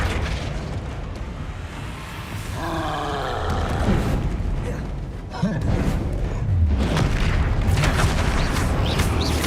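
A magic spell goes off in a Harry Potter wizarding video game, with a rising whoosh, a booming burst and a rumbling roar over layered game effects and music.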